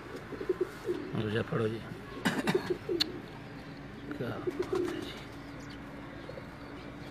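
Domestic pigeons at a house loft coo in low, soft bursts amid rustling and clatter, with someone speaking over them and a faint second voice now and then.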